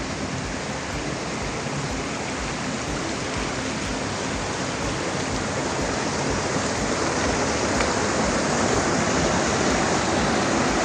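Tokiəxıl waterfall in the Talysh mountains near Vizəzəmin village, Lerik, pours with a continuous broad rushing roar that holds steady throughout, with no voices over it.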